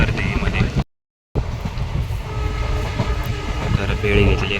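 A passenger train runs along the Konkan railway, its wheels clattering rhythmically on the tracks under a continuous rumble and wind rush, heard close and loud with a brief gap in the sound.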